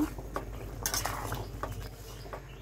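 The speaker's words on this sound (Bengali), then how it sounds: "মশলাটা একটু নাড়াচাড়া করে মিশিয়ে নেব" A spoon scrapes and clinks through spice masala in a pan while fish curry of koi fish with drumstick and potato is made, giving soft irregular stirring scrapes and a few light metallic clinks close by, with no talk.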